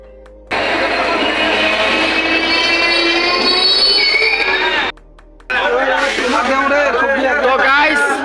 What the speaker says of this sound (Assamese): তো আপোনালোকে চাব পাৰিছে ধুবুৰী এক্সপ্ৰেছ আহি গৈছে।